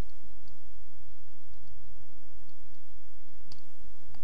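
A computer mouse being right-clicked while editing Flash animation, a few faint sharp clicks spaced irregularly over a low steady hum, one crisper click near the end.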